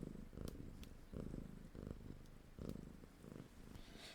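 A cat purrs close up in soft, rhythmic pulses, each breath cycle a low rumbling burst, faint and intimate with no talk.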